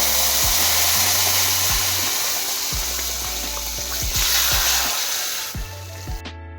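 A tempering of spices poured into a simmering Mangalorean ripe mango curry sets off a loud, steady sizzle. Sharp clicks and low knocks of a spoon or pan run through it, and the noise drops away near the end.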